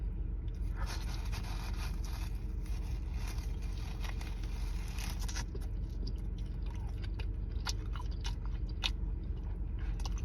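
A man chews African jello rice up close, with soft, quiet, continuous mouth sounds and faint crunchy scrapes over a low background rumble.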